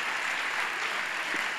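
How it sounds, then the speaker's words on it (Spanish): Comedy club audience applauding during a stand-up monologue, a steady dense wash of clapping that holds at an even level throughout. "Un aplauso para esa gente, de verdad."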